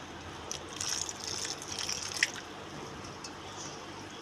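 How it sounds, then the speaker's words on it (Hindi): Water is poured in small amounts into flour for a breakfast paratha dough, giving a faint, soft trickle and splash in a quiet kitchen, with a few brief drips. "फिर उसके बाद हम इसमें थोड़ा थोड़ा करके पानी ऐड करेंगे"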